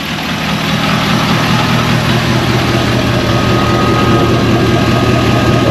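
A 2024 Duramax truck engine running steadily on a test drive, a loud, continuous low rumble with a constant droning hum and no break.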